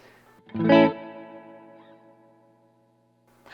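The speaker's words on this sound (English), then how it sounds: "That's a very delay-esque reverb" A single struck electric guitar chord swells through a reverb pedal with a delay-like character, its smeared, echoing tail ringing out and slowly fading over a few seconds.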